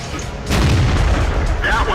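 A tank cannon in World of Tanks fires at an IS-8, a single loud, close boom that rolls into a long, heavy rumbling tail.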